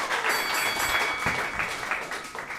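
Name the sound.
audience applause for the roasters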